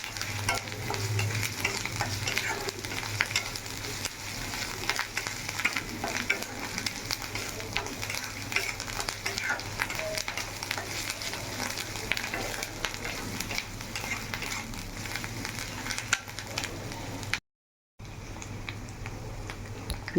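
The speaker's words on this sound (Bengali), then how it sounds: "এবার দিয়ে ভালো করে লো ফ্লেমে আস্তে আস্তে করে ভাজতে হবে।" Onion and ginger-garlic paste fry in oil over a low flame, giving a steady, close sizzle with frequent stirring scrapes that continue nearly unbroken for about twenty seconds.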